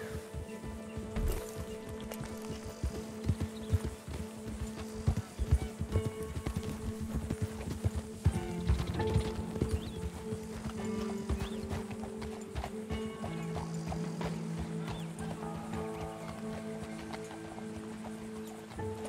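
Rapid clip-clop of horse hooves at a run in a video game, with an occasional whinny, layered over a steady tonal music bed throughout.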